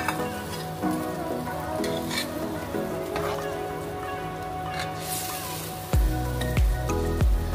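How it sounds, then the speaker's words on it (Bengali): Hilsa fish simmers in a coconut milk curry with kochu, a soft bubbling sizzle under steady faint clatter, then a few louder knocks and splashes near the end. "নুন দেওয়ার পরে এবার আমরা নারকেলের দুধটা অ্যাড করে দিলাম, আর মাছটা ছেড়ে দিলাম।"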